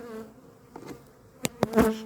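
Honeybees buzz close by at the hive in short bursts, a few loud passes rising over a quieter hum.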